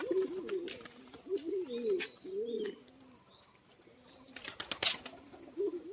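Giribaz pigeons coo in repeated low, rolling phrases, close by, with a few sharp clicks and rustles in between.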